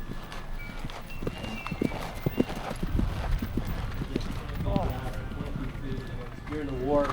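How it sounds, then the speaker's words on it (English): Horses' hooves clip-clop in a steady rhythmic patter at a living history festival at Fort Malden in Amherstburg, Ontario, with people talking over them and a horse's whinny near the end. "These horses are about 16 inches high."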